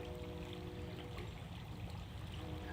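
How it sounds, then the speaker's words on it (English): A small babbling brook beside a bike trail trickles and gurgles softly and steadily, a faint, continuous burble with no talking. "a nice little babbling brook there."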